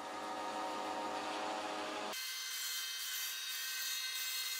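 A Eureka J15 Pro Ultra robot vacuum mop returns to its base to wash its mops, making a loud, continuous motorized whir that abruptly changes to a higher-pitched, hissing wash-cycle drone partway through, with no talk.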